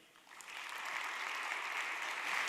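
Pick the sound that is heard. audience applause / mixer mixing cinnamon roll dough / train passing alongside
audience applause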